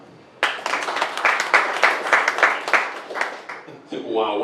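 Comedy club audience clapping and cheering after a comedian's question, scattered claps rising from quiet, sustained for a few seconds and then easing off.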